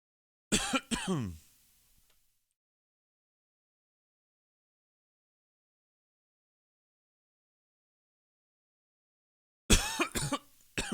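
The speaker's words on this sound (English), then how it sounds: "Sorry for all the coughing." Two separate bursts of harsh coughing, one near the start and one near the end, with long silence in between.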